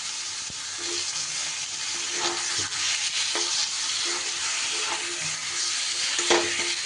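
Marinated chicken frying in a pan with cooked-down masala, a continuous close sizzle with repeated scraping and knocking of a spatula stirring through it, steady and moderately loud, no talk.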